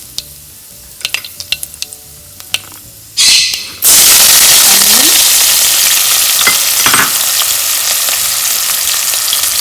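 Mustard seeds pop in sparse sharp clicks in hot oil, then asafoetida goes in and a loud, dense sizzle surges up and holds steady with a few stirring scrapes.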